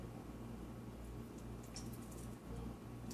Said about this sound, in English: I will start my siphon and hold my finger down.